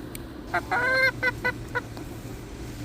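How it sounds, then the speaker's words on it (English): A few short honking clucks from chickens at a hen house sound close by in a quick burst, then trail off over a low background hum. "Just saying hi to the chickens for a few minutes."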